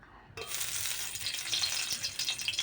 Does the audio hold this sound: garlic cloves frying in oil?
yes